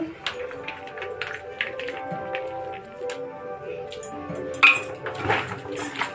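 Ginger paste being stirred in hot oil in a heated pan while making chicken biryani, with light clinks and taps of the spoon against the pan over a low sizzle, close and without talk.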